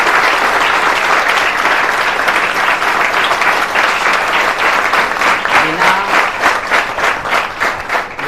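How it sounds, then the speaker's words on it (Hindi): Loud, sustained applause from a room full of students in a classroom, a dense clatter of many clapping hands that runs on steadily before it starts to thin near the end. "तो उस लक्ष्य के लिए एक बार जोरदार ताली होनी चाहिए।"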